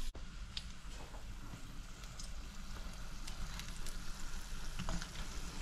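Stuffed mini bakes with sardine frying in a pan, a continuous crackling sizzle with scattered pops, steady and fairly close with no talking.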